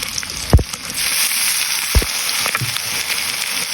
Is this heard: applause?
no